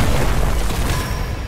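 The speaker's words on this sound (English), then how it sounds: "I need to land an explosion combo." An explosion combo attack in the Heroes Battlegrounds video game, a loud, sustained rumbling boom with crackling bursts that holds steady for about a second and a half with no talk over it.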